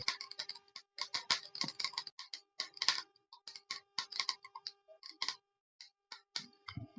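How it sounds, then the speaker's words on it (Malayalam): Mustard seeds, added with a couple of broken dried red chillies, pop and crackle in hot oil for a Brazil spinach stir-fry: sharp, rapid, irregular crackles heard up close but quietly, with brief gaps between bursts. "എണ്ണ ഒന്ന് ചൂടായി വന്നാൽ നമുക്ക് കടുകിട്ട് കൊടുക്കാം."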